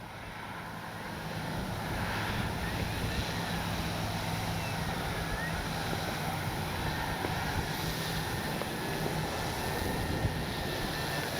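An E-Flite Carbon Z T-28 radio-controlled plane drones steadily overhead on a windy day, its engine a continuous, fairly faint buzz with wind rumble underneath.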